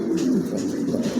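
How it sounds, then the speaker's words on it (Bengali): A pair of pigeons cooing up close, soft low throaty calls rolling one into the next in a continuous, moderately loud burble with no talking. "দেখার মতন একজোড়া কবুতর"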